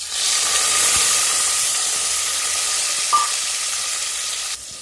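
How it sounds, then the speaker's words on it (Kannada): Tomato frying in hot oil with mustard seeds, cumin and curry leaves gives a steady, close, bright sizzle and hiss, with a brief stir near the end and no talking. "ನೋಡಿ, ಎಣ್ಣೆಯಲ್ಲಿ ಟೊಮೊಟೊ ಬೇಯ್ತಾ ಇದೆ."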